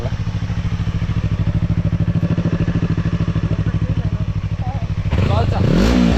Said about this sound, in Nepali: यसको स्टक एक्जस्ट सुनौँ होला